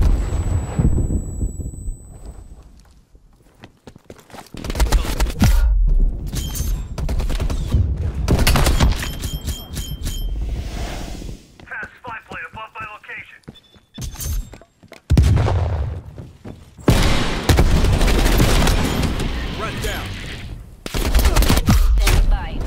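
Gunfire in the video game Black Ops Cold War, with pistol shots among bursts of rapid, loud, close shooting and explosive blasts, broken by quieter gaps.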